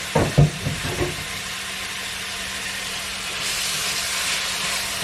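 Hamburger meat and vegetables sauteing in a pan give a steady close hiss and sizzle after a few brief clatters at the start, with no voices.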